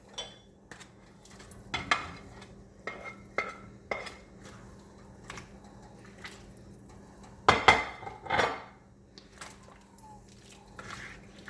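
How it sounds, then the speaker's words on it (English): A spoon stirs potatoes into a pot of homemade vegetable soup, giving scattered soft scrapes and metallic clinks close by, with a few louder knocks against the pot near the middle and no talking. "Now you're just gonna wanna give it a nice stir in"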